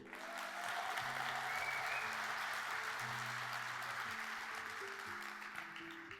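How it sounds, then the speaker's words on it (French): Applause from a hall of over six hundred convention participants, a steady wash of clapping heard from some distance, with low musical tones running faintly underneath throughout. "Est-ce qu'on peut vous applaudir, s'il vous plaît?"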